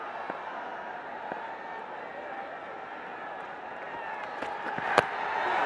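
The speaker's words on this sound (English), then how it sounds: "Still not full crowd in the stadium. You can hear them." A partly filled stadium crowd at a Bangladesh Premier League cricket match makes a steady, distant murmur, with a few faint claps and sharp knocks near the end.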